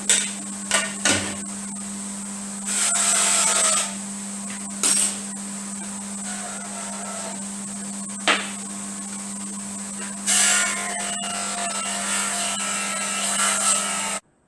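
Motorcycle mudguard from a BSA Bantam race bike pressed against a buffing mop loaded with rouge, heard as a steady whirring motor hum broken by several short grinding bursts of contact, close and moderately loud, with no talking.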